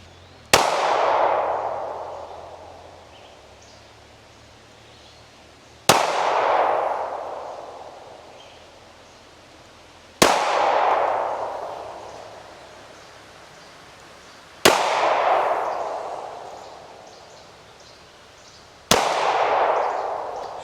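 Five handgun shots fired at a steady pace, each a sharp crack followed by a long ringing, rumbling decay, spaced roughly four to five seconds apart, loud and close on an outdoor range.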